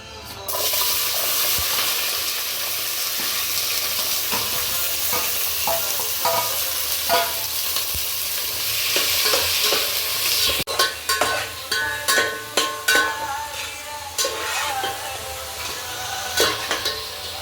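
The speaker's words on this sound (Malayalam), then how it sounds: "ആദ്യം നമുക്ക് ഉള്ളി ഇട്ട് വഴറ്റി കൊടുക്കാം" Onions sautéing in hot oil in a pan for sambar, a continuous close sizzle with rhythmic stirring scrapes growing more distinct in the second half, no voices.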